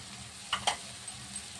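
Capsicum, beetroot and peas with salt are sautéed in a pan for pav bhaji, giving a soft steady sizzle with a couple of quick scraping stirs, faint and close.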